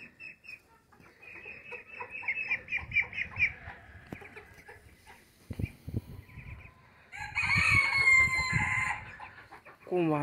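Several roosters crow near and far on a farm, with small laying hens clucking and cackling between calls; a loud crow rises near the end.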